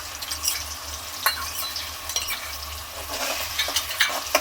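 Onion paste and ginger garlic paste fry with a steady close sizzle in a pan for chicken curry, stirred now and then with soft scraping bursts throughout.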